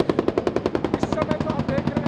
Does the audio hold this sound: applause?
no